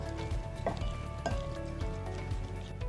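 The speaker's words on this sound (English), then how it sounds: "you're just going to want to mix it up" A bruschetta tomato topping is stirred in a bowl, giving short, wet, squelching strokes. Two or three distinct stirs sound close and fairly quiet, with no talking.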